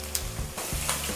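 Masala tipped onto frying mutton pieces for a no-onion, no-garlic rogan josh, a loud close sizzle with quick stirring bursts and spoon scrapes.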